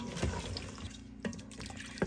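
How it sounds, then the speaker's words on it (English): About a cup of water tossed into a pot of chickpeas for a one-pot pulao, a short, close, faint splash and trickle with a few quick drips. "we're gonna toss in about a cup of water"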